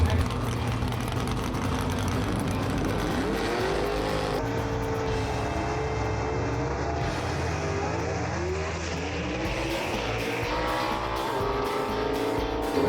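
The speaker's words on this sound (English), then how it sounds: "Good close race upper end, gonna beat Kobe Welch." Gasser drag race cars roar down the strip in a close race, a loud sustained engine howl with shifting pitch that rises and falls as they pass, with a brief rattling burst near the end and no speech.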